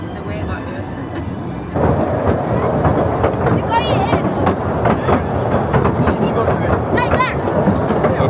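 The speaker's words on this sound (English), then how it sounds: "riding the train." A ride-on train rumbles steadily at the Efteling theme park, with loud clickety-clack over the rails and squealing wheels, while people talk nearby.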